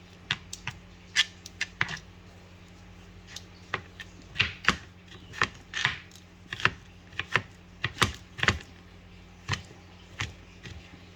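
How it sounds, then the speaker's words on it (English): A knife chops ingredients, with garlic mentioned, into smaller pieces on a cutting board for a Filipino dish of dried fish with alugbati and camote tops. The knocks come in uneven bursts, close and fairly quiet, with no talking. "Just going to cut it up into a little bit tinier pieces"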